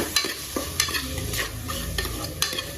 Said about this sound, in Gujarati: તો આને આપણે મિક્સ કરી દેવાનું છે.